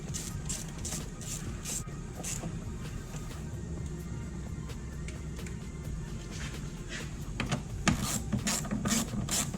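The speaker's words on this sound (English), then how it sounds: "And then tighten down your clamp at the throttle body." A ratchet clicks and rasps steadily while tightening a clamp at the throttle body during installation of oil balancing lines on a Ford GT350 engine, with close mechanical rubbing throughout and a louder burst near the end.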